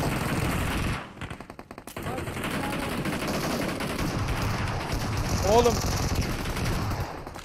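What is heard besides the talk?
gunfire in a video game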